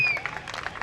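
A crowd at a local cricket match applauds batsman Anuj in a short, steady patter of clapping, heard from a distance with faint cheering mixed in.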